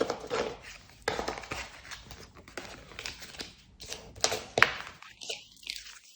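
Tarot cards gathered up and tapped together on a table, a run of soft irregular knocks and slides, close and quiet, with a faint rustle near the end.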